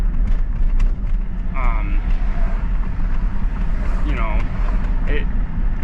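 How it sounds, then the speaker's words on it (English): A Redmax 7500 fitted with an aftermarket carburetor that is acting up runs steadily and loudly close by, giving a continuous rough drone with a few brief voice-like sounds over it. "I replaced a carburetor on the Redmax 7500. It still seems to be acting up."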